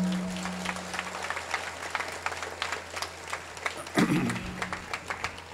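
A school graduation day audience claps together in a hall, a dense, steady patter of many hands at moderate loudness, with a brief low voice partway through.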